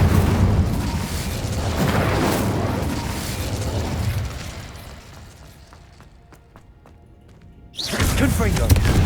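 An Incendio fire spell cast in the video game Hogwarts Legacy gives a loud whooshing burst that roars for several seconds and dies away, followed by a short lull before another heavy blast.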